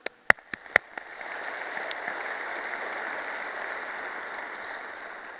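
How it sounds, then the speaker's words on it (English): Conference audience applause at a fuel ethanol workshop general session, opening with a few sharp separate claps that quickly swell into a steady, moderately loud wash of clapping. "How about another round of applause for Randy and John?"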